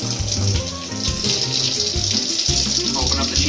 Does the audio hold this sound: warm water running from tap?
yes